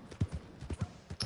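A horse's hooves clip-clop in Red Dead Redemption 2, a steady uneven trot of soft thuds heard fairly close and moderately quiet, with no talk over it.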